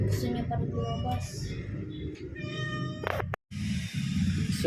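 Several close, drawn-out meows from a large cat repeat over background chatter and rustling, one louder cry near the end.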